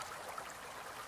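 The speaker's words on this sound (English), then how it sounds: "Oh, babbling. I could fall asleep listening to this." Babbling brook water runs in a soft, steady trickle and burble, quiet and continuous with no voices.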